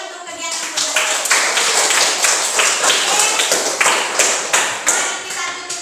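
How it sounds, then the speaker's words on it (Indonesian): Applause from a classroom of students at the end of a lesson: a dense, steady patter of many hands clapping that runs for several seconds at fairly close range, with a few sharper claps standing out. "Tepuk tangan untuk kegiatan pembelajaran"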